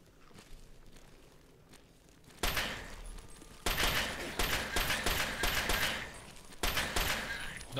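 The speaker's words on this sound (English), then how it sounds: "let's just use a Chinese pistol, I think" Chinese pistol gunfire in Fallout 3: loud, dense bursts of game shots and crunchy impacts come in two heavy stretches after a quieter opening, with a short gap between them.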